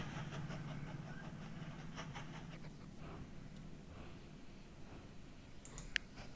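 A train in the railway-building game Mashinky runs along its tracks, a quiet, steady low rumble with faint rhythmic clicking of wheels, plus a sharp small click near the end and no talking.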